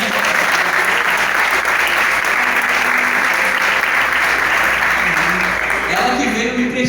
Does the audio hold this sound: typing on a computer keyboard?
no